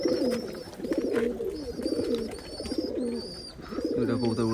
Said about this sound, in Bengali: খাইতে দিতে এসেছি 10টার সময়, সব কবুতরগুলো খাচ্ছে